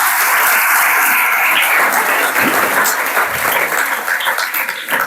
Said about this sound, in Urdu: اس لیے یسوع کے نام پر ایک بار بھرپور تالی لگائیں گے